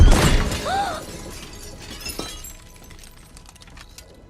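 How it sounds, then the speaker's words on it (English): Glass shatters loudly at the start, a bright crash followed by ringing shards and scattered tinkling that fades out, as Elphaba breaks the glass in Wicked: For Good. "Elphaba breaks the glass just like she did in their dorm room in the first film"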